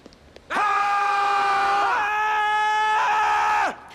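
A soldier, a sergeant, bellows the US Marine Corps battle cry in one loud, sustained, strained yell that lasts about three seconds, briefly wavers in pitch midway, then cuts off.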